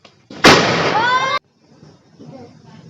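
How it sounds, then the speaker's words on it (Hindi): Toy cap gun with paper caps fired during Diwali festivities: one sharp, loud crack that rings on for about a second, then cuts off into faint background voices. "इसके गन और टिकली अभी ख़त्म नहीं हुए हैं, तो ये इसके चक्कर में लगा रहेगा।"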